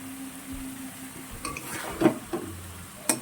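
Egg curry with onions is stirred in a pan, with soft low sizzling under a few distinct scraping stir strokes and light clinks of the spoon against the pan.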